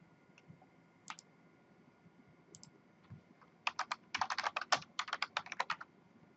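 Keys clatter on a computer keyboard as the ipconfig all command is typed, sparse isolated clicks giving way to a quick burst of rapid keystrokes, close and fairly quiet with no talking.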